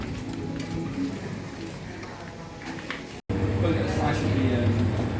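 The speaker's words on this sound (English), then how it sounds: "while it's cold and raining" Rain falls steadily outdoors near a slate mine in the Lake District, a dense continuous hiss that stays even throughout and briefly cuts out before resuming slightly louder.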